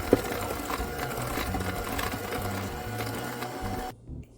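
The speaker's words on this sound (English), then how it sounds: "Now I'm going to mix all this together." Electric hand mixer whirring steadily through pumpkin cookie batter of egg, vanilla and pumpkin puree, a continuous close motor hum that cuts off near the end.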